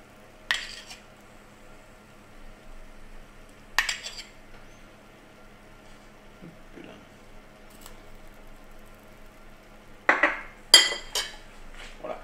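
A utensil mixes potatoes in a roasting dish beside a roasting pré-salé lamb shoulder, with butter pieces added. A few sharp metallic clinks and scrapes come close by at scattered moments, with quiet kitchen hum between them and no talk.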